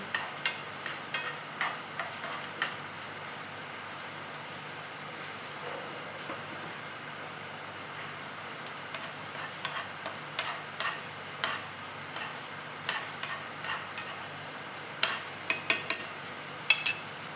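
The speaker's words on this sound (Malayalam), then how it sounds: "കടലയും അണ്ടിപ്പരിപ്പും മുന്തിരിയും എല്ലാം കൂടി നെയ്യിൽ വറുത്തെടുക്കുന്നുണ്ട്" Chickpeas, cashews and raisins roasting in ghee, a soft steady sizzle under a run of light, sharp taps and scrapes as they are stirred, quiet and close, no speech.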